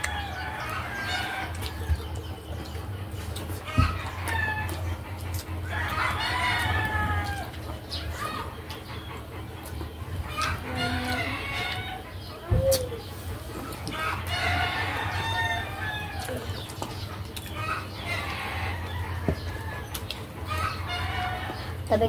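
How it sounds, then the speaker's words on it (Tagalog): Chickens cluck and roosters crow in repeated rounds from a neighbor's yard, fairly near. A steady background hum runs under them, with occasional knocks and faint voices mixed in. "Maingay mga idol. Maraming manok dito sa kapitbahay."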